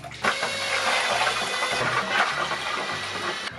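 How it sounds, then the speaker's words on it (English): A gallon of water poured into a bucket for mixing microcement, a steady, close, gushing splash that starts abruptly and runs almost the whole time at even loudness, with no talk. "All right, 1 gallon of water down."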